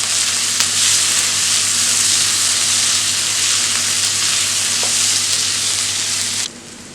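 Onion and tomato fry in a pan and are stirred, giving a loud, continuous sizzle with a few faint scraping touches. The sound cuts off abruptly near the end.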